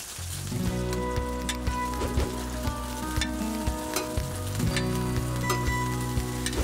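Shrimp sizzle and fry in a pan for a seafood fideuà, giving a steady, close, crackling hiss that runs throughout with no talk.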